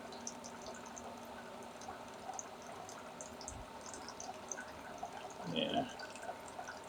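Hot liquid from a platinum-recovery batch of e-waste trickles and drips faintly through a hose being siphoned off, with a brief gurgling surge near the end over a low background.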